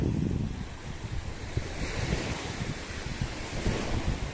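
Sea waves wash onto the shore in October with a steady, rolling surf roar. Gusting wind buffets the microphone throughout.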